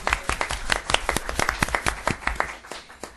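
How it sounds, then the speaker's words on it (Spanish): Audience applause at a session on business competitiveness and industrial policy, heard as a thinner crowd of distinct, sharp hand claps in a quick uneven rhythm, close and fairly loud throughout. "muchas gracias por un aplauso para todos"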